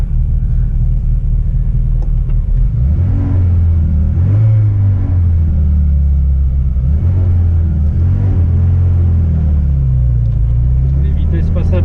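Peugeot 205 Turbo 16 Série 200 engine rumbling close and loud, rising and falling in pitch as it accelerates with several gear changes, a deep steady drone throughout.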